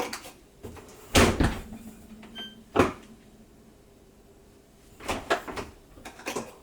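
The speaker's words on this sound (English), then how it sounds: "I don't know if you heard that, but I closed the detergent module." The detergent module door on a GE dishwasher running its diagnostic test mode snaps shut in a few sharp plastic clicks and thumps, close and moderately loud, with quiet kitchen background and no talk.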